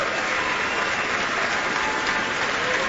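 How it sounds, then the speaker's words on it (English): An audience applauds Joanna Newsom after her onstage conversation with Dave Eggers, a dense, steady wash of clapping from a crowd that holds at an even level for the whole stretch with no voices above it. "let's give Joanna a round of applause for everything she is"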